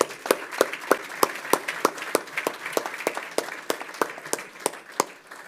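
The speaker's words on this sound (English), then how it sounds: "Please give them a warm round of applause." An audience at a live trend-following event clapping, a fairly sparse ensemble of sharp claps in steady rhythm, a couple of louder hands standing out over a softer spread of applause for about five seconds.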